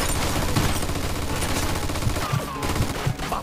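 Sustained automatic gunfire from a machine gun in the video game Mafia 2, dense and continuous with rapid rattling bursts and heavy low thumps throughout, loud and close.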